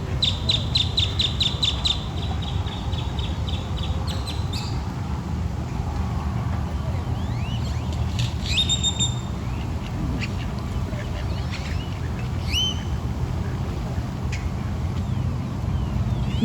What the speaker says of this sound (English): There's a couple wood ducks.